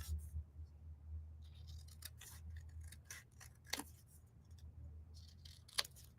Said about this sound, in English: So I'm going to cut real straight across that.